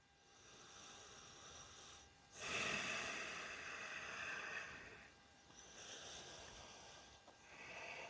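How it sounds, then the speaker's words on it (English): Slow, deep yoga breaths come in long airy rounds, each inhale and exhale a loud, close hiss through the nose, separated by brief pauses, with no talking. "We'll take 2 more rounds of breath."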